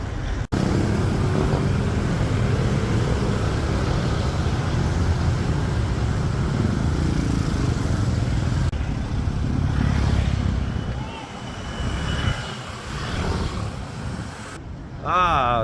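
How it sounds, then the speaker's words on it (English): Busy Philippine street traffic with motorcycles and scooters rumbling past, a steady loud engine drone close by that thins out briefly near the end. "Philippines, motorcycles, scooters everywhere."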